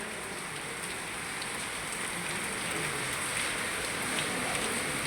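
Heavy rain pours steadily in a dense, unbroken hiss of drops hitting surfaces, loud and constant throughout with no voices.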